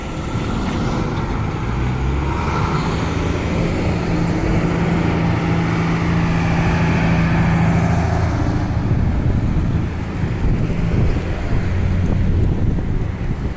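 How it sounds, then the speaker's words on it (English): Strong wind buffets the microphone continuously, a loud steady roar with low rumbling, like traffic passing somewhere behind it. "It is windy out here today."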